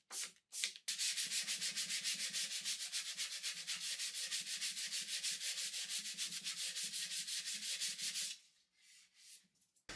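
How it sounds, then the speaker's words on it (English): Sandpaper wrapped around a wood block rubs wood by hand in fast, rhythmic back-and-forth strokes, close and steady, stopping near the end with a few lighter strokes. "I always wrap my sandpaper around a wood block."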